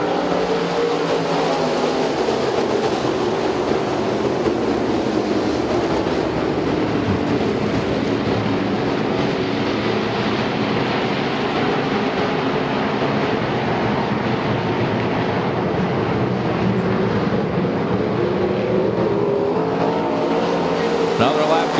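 Race cars lap the Speedzone track in a dense, continuous roar of engines that holds steady and loud for the whole stretch, with a voice talking faintly underneath.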